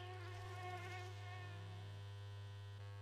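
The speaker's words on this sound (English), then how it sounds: "why am I hearing flies?" Flies buzz faintly in the My Summer Car video game, a thin, steady drone over a constant low electrical hum with no voices.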